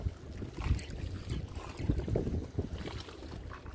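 Strong wind gusts buffet the microphone along the Manila Bay waterfront ahead of a typhoon, a loud rumbling roar that rises and falls with lapping water beneath.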